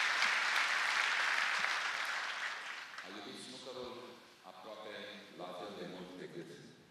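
An audience at the Circul Metropolitan in Bucharest, at a snooker event, breaks into dense, loud applause that gradually thins and fades while a voice begins speaking over the tail of the clapping.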